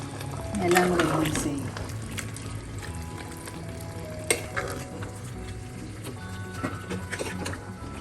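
Chicken biryani is stirred and mixed in a pot after dish-rinse water goes in, with a busy scraping, sloshing burst early on and then steady soft stirring, close up and without talk.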